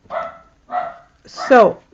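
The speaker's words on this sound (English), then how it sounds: "Sorry, the dog is barking." A dog barks indoors three times in quick succession, close and loud, the last bark rising into a higher yelp.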